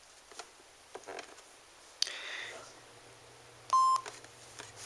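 A Kohler Moxie showerhead speaker gives a single short, clear electronic beep when its translucent pairing button is held down, set among faint handling clicks and rustles.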